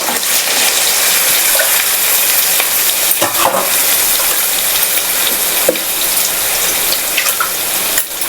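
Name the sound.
water poured from mixer jar into pan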